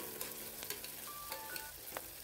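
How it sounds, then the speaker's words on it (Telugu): Ginger garlic paste sizzles in a pan, a steady close hiss with occasional small pops and a faint stirring scrape, no voices. "దానికి పచ్చివాసన పోయే వరకు చక్కగా వేపుకునేసి"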